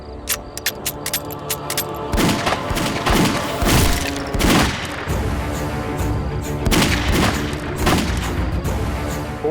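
Rapid bursts of gunfire crackle and boom, dense volleys of shots fired into bushes overlapping loudly for several seconds with echoing thuds, in a TV drama scene.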